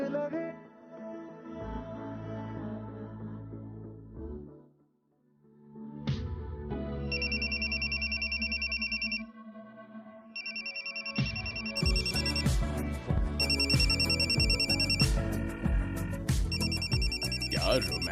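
A telephone rings in a Hindi TV drama scene: after a stretch of background music and a brief lull, repeated electronic ringtone bursts sound loud and close, continuing in a steady pattern to the end alongside the music.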